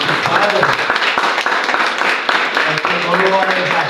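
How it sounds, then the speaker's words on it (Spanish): A church congregation breaks into sustained applause, steady clapping from many hands filling the room, with voices mixed in underneath. "Regálele un aplauso a su Creador"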